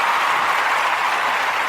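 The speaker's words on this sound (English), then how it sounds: "Applause." Studio applause, a steady dense patter of clapping that stays even and fairly loud for under two seconds, with no voices over it.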